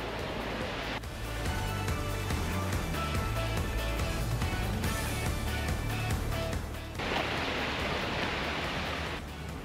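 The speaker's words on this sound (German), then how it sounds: "wir sind wieder am Strand von St. Elm" Steady, dense surf wash rolls onto the beach at Sant Elm on Mallorca's coast, a loud continuous roar that swells and eases slightly, with no voices.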